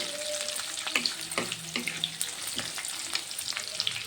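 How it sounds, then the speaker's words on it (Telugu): Onions fry in a pan with busy crackling and popping over a constant sizzle, irregular sharp spits scattered throughout, close and moderately loud with no talking. "కొంచెం ఫ్రై అవ్వాలి ఆనియన్స్."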